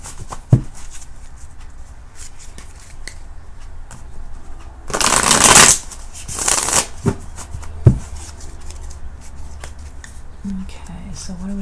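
A deck of playing cards being shuffled back together into a full deck, a loud dense riffle burst followed by a second shorter one, amid quiet room noise and occasional taps.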